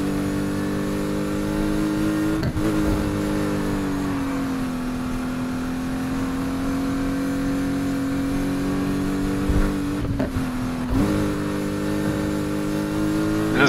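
A Lotus Exige S sports car drives in the racing game Need for Speed Heat, its engine holding a steady loud drone with slight pitch shifts and a couple of brief dips where the revs change.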